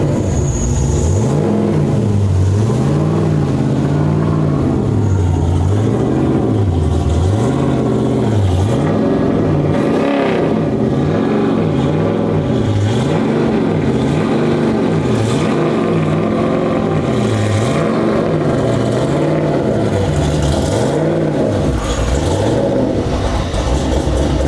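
A tuned 1100 wheel-horsepower C6 Corvette engine runs steadily with rhythmic revving that rises and falls in slow waves, loud and close, as the car is driven into a trailer, with no talking.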